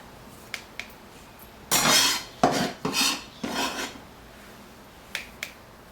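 Egg roll filling mixture is stirred in a bowl, several short scraping and clinking bursts of utensil against the bowl with a few faint ticks around them, close and without talk.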